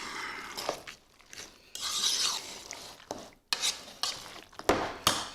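Soup worked through diced ham casserole ingredients in a bowl, with irregular scraping, scooping and wet stirring strokes from a utensil, close up, in uneven bursts with brief pauses.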